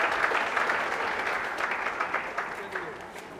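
An audience, including children, claps before a curtain reveal at a lively indoor gathering. The applause is dense and continuous, a steady wash of close, crackling hand claps throughout.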